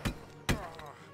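Two heavy thumping gunshots from airships in the video game Airships: Conquer the Skies, close and punchy, about half a second apart, each with a short fading tail.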